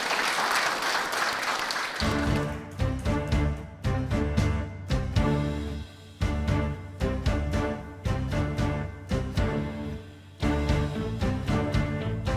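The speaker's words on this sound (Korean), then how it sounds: "다시 한번 큰 박수로 청해 주십시오." Crowd applause rings out for about two seconds at a Korean ceremony marking the 105th anniversary of the Battle of Cheongsanri, then fades as a musical performance begins and takes over.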